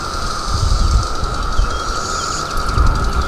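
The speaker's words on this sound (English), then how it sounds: "That's an adult cicada" A steady, droning buzz of adult cicadas on milkweed in a spring garden fills the background continuously, with a constant high whine over low rustling.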